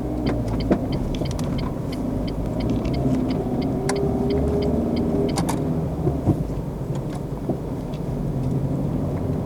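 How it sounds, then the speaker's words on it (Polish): A car pulls away from a standstill on a hill using the handbrake during a driving lesson, its engine a steady low rumble throughout with small clicks and knocks from inside the cabin. "Próbujemy to ruszyć z hamulca ręcznego prawa ręka na hamulcu ręcznym"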